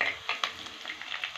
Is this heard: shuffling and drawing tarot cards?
no